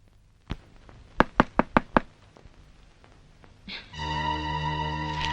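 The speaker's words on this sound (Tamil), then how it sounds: "அவ அங்க கதவை தட்டிட்டு இருக்கா." Knocking on a door in a home: one knock, then a quick series of five sharp raps, followed by a steady droning tone, with no talk.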